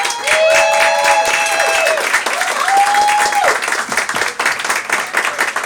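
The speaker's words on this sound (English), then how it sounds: "Applause for it." A comedy club audience in Greenwich Village applauds loudly and continuously, with whoops and cheers rising over the clapping.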